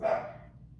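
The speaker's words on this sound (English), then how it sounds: "If you hear barking, that's my dog." A single short dog bark, fairly close, fading quickly into a quiet room.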